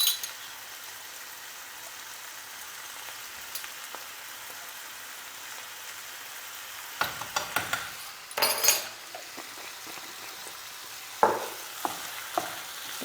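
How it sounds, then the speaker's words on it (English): Paprika being stirred into a frying Bulgarian moussaka mixture in a pan: a faint steady sizzle with a few louder bursts of stirring and scraping toward the end, no talking. "Mixing all the paprika in, making sure the flavours all combine"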